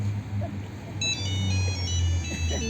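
A phone rings with a steady electronic ringtone melody in a stage comedy performance, playing continuously at moderate volume over low background hum and faint stage noise.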